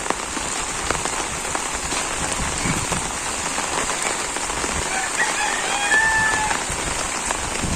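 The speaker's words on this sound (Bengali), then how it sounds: "তো এত বৃষ্টি ভালো লাগে না" Rain falls steadily across a village yard during a rainy wetland morning, a dense, loud, even patter that continues throughout, with a faint rooster crow and fowl calls in the distance.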